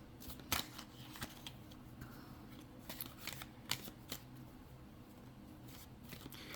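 Rider-Waite-Smith tarot cards are drawn and handled close by, giving soft sliding rustles broken by a few sharp snapping flicks, quiet and alone.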